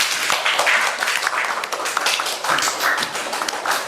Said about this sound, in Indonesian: tepuk tangan untuk Rahmalia